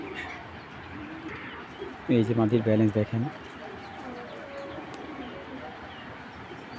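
An imported racing pigeon gives a short burst of throaty cooing, about a second long, close by amid a noisy room while someone talks.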